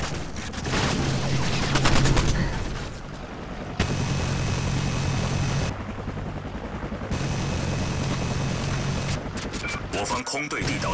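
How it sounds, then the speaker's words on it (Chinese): Attack helicopter in the shooter game Call of Duty Online, its rotor drone running beneath heavy bursts of machine-gun fire and explosions, loud and chaotic with sharp cuts between segments. "敌方武装直升机来袭"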